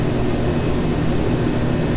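Twin turboprop engines of a Q400 in the Flightgear flight simulator, spooled up to about 40 percent: a dense, constant whirring roar, even and unbroken throughout.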